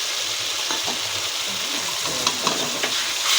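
Ground spices with cumin powder and a splash of water frying in a pan for a Bengali fish curry, a steady close sizzle with light stirring scrapes.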